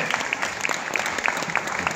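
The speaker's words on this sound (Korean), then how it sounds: "박수 한번 해주시고." Audience at a Thanksgiving music concert in a church applauds steadily, with dense, even clapping throughout and no voices heard.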